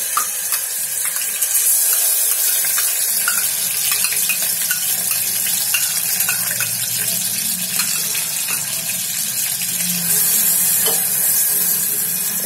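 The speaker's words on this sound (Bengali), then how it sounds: "প্রথমে হাঁড়িতে তেল দিয়ে দিলাম, তারপরে 2 টেবিল চামচ পেঁয়াজের পেস্ট আর 1 টেবিল চামচ রসুনের পেস্ট দিয়ে দিলাম।" Onion paste and garlic paste sizzle and fry steadily in hot oil in a pot, a continuous close crackle with occasional stirring scrapes, running alone without any voices.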